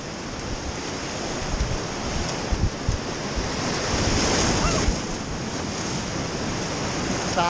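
Roaring whitewater rapids on the Upper Meadow River in West Virginia at about 1350 CFS, heard from a paddler's boat as a continuous loud rush of churning water with steady wind buffeting across the microphone.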